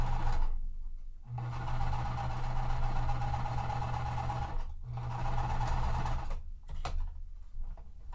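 A sewing machine stitches quilt pieces for a Wild West puzzle mystery quilt in two steady bursts of running motor hum, pausing briefly between seams, close and fairly loud with no talking.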